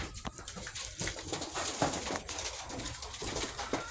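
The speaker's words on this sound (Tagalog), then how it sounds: "Tapos silipin natin yung kalapati natin sa taas." Pigeons coo softly amid rustling and shuffling, with scattered short clicks and flutters nearby, no talking.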